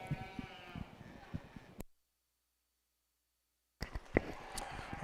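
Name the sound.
sheep bleating at a breeding sheep show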